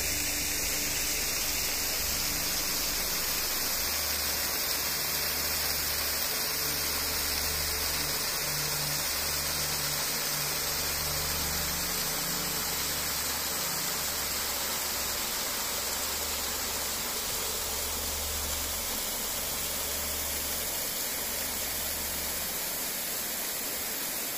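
Water pours steadily at Dumukurallu waterfalls in Kaigal near the Nithya Jala Neelakandeshwarar temple. It makes a dense, continuous roar that stays loud and even throughout, with no voices.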